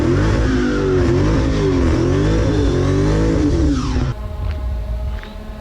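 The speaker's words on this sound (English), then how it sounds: "That's the marks in like 3 seconds of a burnout." 2021 Dodge Charger Redeye Hellcat doing a burnout with line lock, a loud sustained engine roar and howl of spinning tires held at high revs, then the engine note drops abruptly as the throttle is released.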